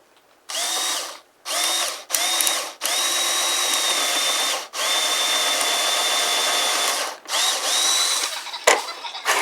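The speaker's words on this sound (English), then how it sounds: "We're going to drill our hole in this side." A power drill bores a hole during the build of a Kadet LT 40 model trainer plane, running in about six close, loud bursts of whirring with short pauses between them.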